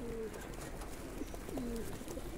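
Pigeons in a loft coo softly, several short rolling calls spread across a couple of seconds over a low room hum.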